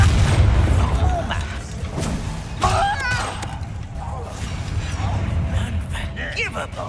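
In Hogwarts Legacy, a Bombarda blasting spell bursts with a deep, rumbling boom that fades into low crashing debris, while voices talk over the game action.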